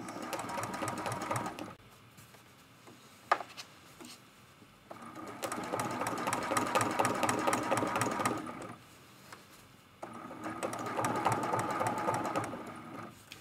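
A sewing machine quilts a lamp post art quilt in three sustained runs of rapid, even stitching, separated by short quiet pauses, heard close with no talking.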